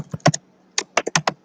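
Typing on a computer keyboard at home: quick, close clicks in two bursts separated by a short pause, crisp and fairly loud, with no talking.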